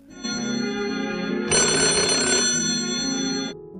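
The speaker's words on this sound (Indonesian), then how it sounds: "Lalu tiba-tiba telepon berdering." A telephone ringing in a horror film: a loud, steady electronic ring with a harsher, brighter burst in the middle, then cutting off abruptly.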